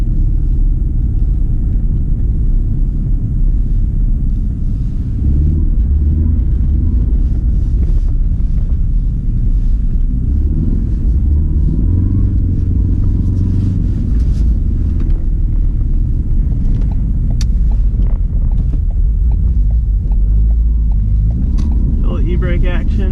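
A Ford Focus RS in track mode drives over snowy roads, its engine and tyre rumble steady and close with wind buffeting the microphone, while someone talks over it throughout.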